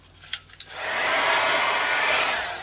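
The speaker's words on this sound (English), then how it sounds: "I keep catching it with a heat gun and chipping it." After a couple of faint knocks, a heat gun kicks on and blows hot air in a loud, steady rushing roar that holds close and then eases slightly at the end.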